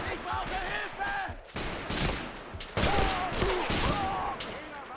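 MP-40 submachine gun fire in the WWII game Men of War, Poland defense mission: several sharp bursts of rapid shots in clusters, loud and near amid battle noise.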